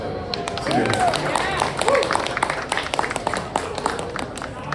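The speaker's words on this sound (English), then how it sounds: "So another round of applause." An audience at a poetry reading gives another round of applause: continuous clapping from a crowd, moderately loud, with a few voices over it.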